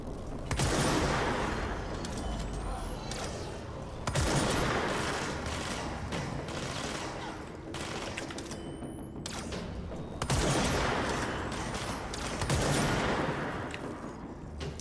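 Sustained gunfire from the video game Control, dense bursts of shots with booming impacts filling the whole stretch, loud and close, swelling again at several points.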